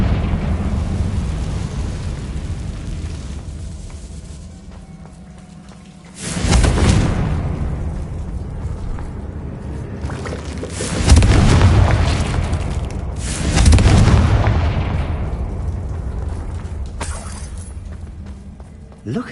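Confringo blasting-spell explosions in the video game Hogwarts Legacy: three heavy, booming blasts several seconds apart, each bursting loud and then rumbling away over a steady background hum.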